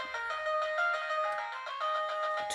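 A 61-key Bandstand electronic keyboard plays its built-in demo song, a twangy, bright synthesized melody with steady notes and accompaniment, loud and alone with no talking.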